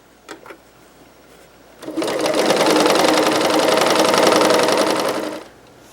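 A sewing machine runs steadily while stitching a border of light fabric onto a quilt top. It starts after a couple of soft clicks and whirs loud and close for about three and a half seconds before stopping.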